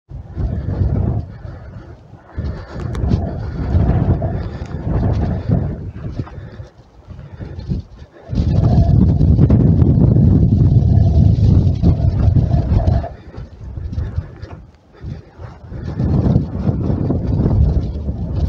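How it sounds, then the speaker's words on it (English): Wind gusts across an exposed hilltop at Bamford Edge in the Peak District, buffeting the microphone in loud, roaring surges that rise and fall, strongest in a long sustained blast midway, with no voices. "Getting a bit wind swept up here now."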